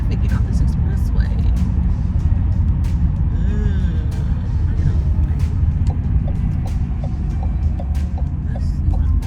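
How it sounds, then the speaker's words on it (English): Car traffic on an expressway, a loud continuous low road rumble of engines and tires heard from inside a vehicle, with a few brief higher tones and a person talking over it. "Why is all this traffic get off this expressway?"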